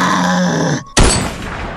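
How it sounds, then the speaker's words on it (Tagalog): A guttural, monster-like growl rumbles for under a second, cuts to near silence, then a single sharp, loud gunshot cracks and rings out in a decaying echo. "Isang parang halimaw na tunog, tapos ay putok ng baril."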